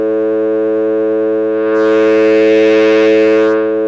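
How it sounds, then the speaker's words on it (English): A sustained synth tone from a Korg Volca Modular, its wave folder boosted, turns harsh, bright and metallic for about two seconds in the middle, then settles back to a smoother sound. "This actually boosts the wave and it folds it into itself for more complex tones."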